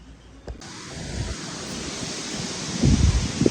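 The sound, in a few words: wind blowing outdoors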